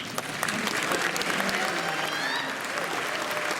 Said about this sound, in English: A big round of applause for the public relations, public media.